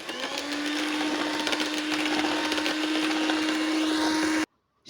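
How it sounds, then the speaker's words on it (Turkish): A steady electric mixer whirs continuously while beating cake batter of milk, eggs, sugar and oil for a walnut cake, loud and close, then cuts off abruptly near the end. "Karıştırmaya devam ediyorum."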